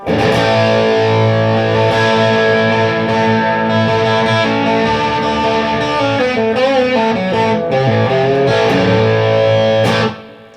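A crunchy, overdriven electric guitar plays through a Peavey Ultra Plus amp's crunch channel, chords and single notes steadily, loud and up front, then cuts off near the end.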